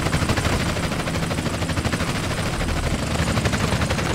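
Helicopter in GTA San Andreas, a loud, steady rotor chop with dense engine whine that fills the whole stretch without pause.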